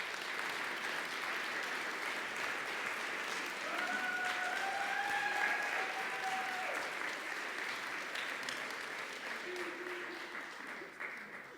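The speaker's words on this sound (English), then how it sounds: "Let's give them a round of applause." A church congregation applauds student volunteers from a mission trip to Alabama, steady clapping filling the room for about eleven seconds, loud and sustained with a faint thin tone drifting above it.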